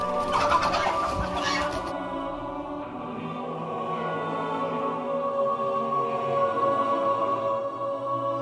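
Chickens cluck and chatter steadily on a farm where geese and hens are kept, a dense continuous flock sound at close range with no talking.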